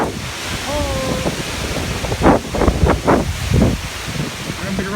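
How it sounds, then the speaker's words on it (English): Strong storm wind roars and gusts outdoors during a metal-detecting outing, buffeting the microphone loudly and steadily, with a voice breaking in briefly over the rush. "it got real dark, real windy"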